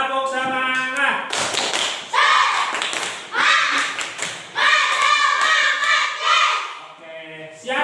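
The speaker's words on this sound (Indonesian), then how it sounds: "Coba tepuk semangat" A classroom of students performs a rhythmic tepuk semangat, sharp patterned claps and taps alternating with loud chanted voices in bursts. The group sounds close and energetic.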